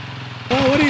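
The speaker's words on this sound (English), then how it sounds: "Dave, he's gonna hammer it first." A dual sport motorcycle engine on a river trail beside the Molalla River in Oregon, idling low and then abruptly revving hard into a loud, rising roar partway through.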